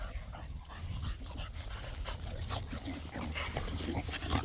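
A female Standard Bully dog in heat whimpers and whines in short, high, uneven bursts over a steady low background rumble, fairly close and moderately loud.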